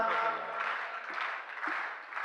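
Audience applause at a Hindi comedy poetry recital comes as a steady wash of many hands clapping, fairly loud and continuous for a couple of seconds, with a voice briefly heard at the start.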